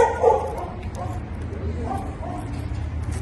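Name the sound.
excitable dog barking before a walk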